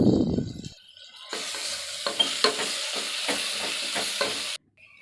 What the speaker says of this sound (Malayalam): ഒരു 2 ടേബിൾ സ്പൂൺ മല്ലിപ്പൊടിയും 1 ടേബിൾ സ്പൂൺ ഗരം മസാലയും ചേർത്ത് നമുക്ക് നന്നായിട്ടൊന്ന് ഇളക്കി യോജിപ്പിച്ചെടുക്കാം